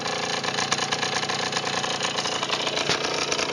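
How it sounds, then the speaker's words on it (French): A motorcycle engine started with a kick starter settles into a steady, stable idle, a continuous mid-pitched running drone heard close up with no talking over it. "Alors voilà, un coup de kick, ça part."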